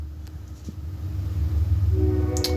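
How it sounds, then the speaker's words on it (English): A train passing outside an apartment gives a low, rising rumble that swells steadily, with a sustained horn tone entering near the end, heard from indoors. "I had to wait till the train passed."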